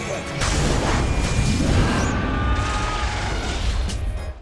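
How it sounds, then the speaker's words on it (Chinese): An animated explosion wiping out Earth's civilization, a loud sustained rumbling roar with crashing debris and whooshing that fills several seconds before tailing off abruptly. "大灯泡居然被气走了，还顺手就炸掉了地球文明"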